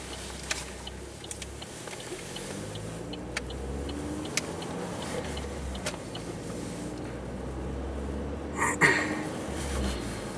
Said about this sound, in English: Seems to be a lot of truck traffic up there on the main highway.